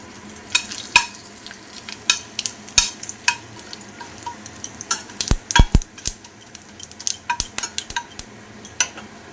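Whole spices fry in hot oil left over from frying katla fish, under a soft sizzle with frequent sharp metallic clinks and scrapes of a utensil against the pan.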